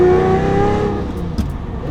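A straight-piped 710 hp Lamborghini engine revving hard, loud and close, its pitch climbing and dropping through gear changes with a brief throttle blip near the end.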